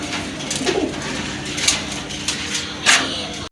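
Jacobin pigeons, large fancy birds kept in a loft, coo in low repeated throaty calls through a steady background, with a few brighter bird calls and wing or cage sounds breaking through.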